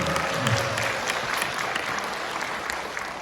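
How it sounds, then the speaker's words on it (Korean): An audience gives steady applause at a talk, a broad sustained wash of many hands clapping that eases slightly toward the end, with a brief voice near the start. "좋아하시면 박수 한번 주세요"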